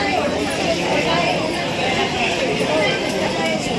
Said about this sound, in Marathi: खूप गर्दी आहे